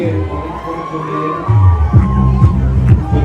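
A crowd gathers by the water at a carnival flower battle in the bay of Villefranche-sur-Mer. Cheers, whoops and children's shouts rise out of a loud, close murmur of voices.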